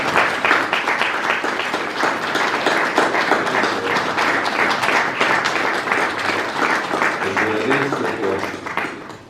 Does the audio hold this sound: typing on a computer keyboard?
no